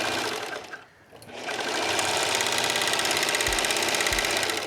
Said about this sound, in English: I'm just going to serge off.